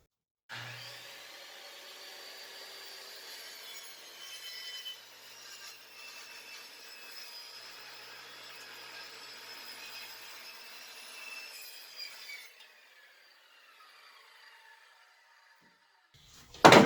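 A saw runs along a Bora NGX 50-inch clamp edge guide through a 24-inch straight cut, giving a steady whining rasp for about twelve seconds that fades out, followed by a brief thump at the end.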